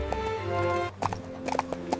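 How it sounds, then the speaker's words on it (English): Horse hooves clip-clop as a prince rides off on horseback in an animated fairy tale, a steady run of crisp, moderately close hoof strikes with a brief whinny-like tone. "The prince mounted his horse and prepared to begin his journey home to his waiting kingdom."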